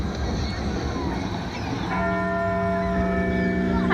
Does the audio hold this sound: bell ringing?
yes